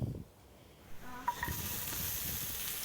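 Chopped nuts and raisins frying in a pan for pulao, a soft sizzle that swells after a brief scrape and then holds steady and fairly quiet to the end.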